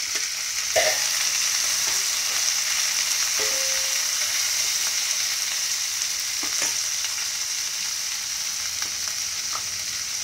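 Tomatoes, drumstick pieces and carrots go into a hot pan for sambar, a loud steady sizzle with a few stirring scrapes and knocks, close up and with no voices.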